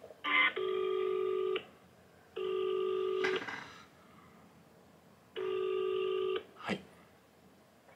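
Telephone line tones play while a call to Hiroshima Bank's direct marketing center connects: three steady, evenly spaced tone bursts, each ending in a short click, with a brief voice at the start.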